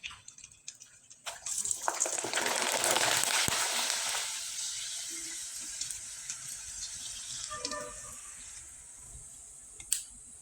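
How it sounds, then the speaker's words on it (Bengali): A rice papad drops into hot oil and bursts into a loud, broad frying hiss that swells for a couple of seconds, then gradually settles into a quieter, steady sizzle with occasional small pops. "আমি আরেকটা পাঁপড় ভেজে দেখিয়ে দিচ্ছি।"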